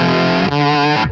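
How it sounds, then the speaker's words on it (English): Electric guitar with a high output humbucker through a tweed-style amp driven by an Analog Man Bad Bob boost pedal, sounding two sustained, thick overdriven chords that ring loud and clear before cutting off. "This is the Bad Bob boost from Analog Man."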